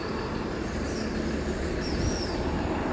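An Endeavour diesel passenger railcar, set N14, runs steadily along the rails between Maitland and Dungog, a loud continuous rumble with a faint wheel squeal over it and no voices.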